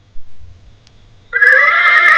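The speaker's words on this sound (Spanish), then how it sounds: "El caballo." After a short quiet pause, a horse gives one loud, clear neigh that carries on by itself.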